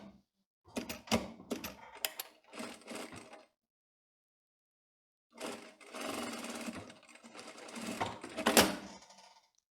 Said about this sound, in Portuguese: Vamos virar e costurar uma linha reta aqui.